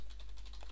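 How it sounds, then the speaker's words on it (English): A brief burst of rapid keystrokes on a computer keyboard, soft close clicks in quick succession. "So what we can do is type something and press enter."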